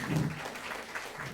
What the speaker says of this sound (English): Yes, please clap for them.